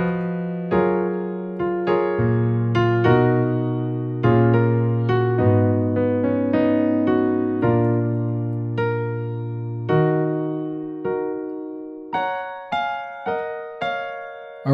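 Solo piano plays the loop from a song slowly, with sustained chords changing at an unhurried pace and a few separate notes struck near the end.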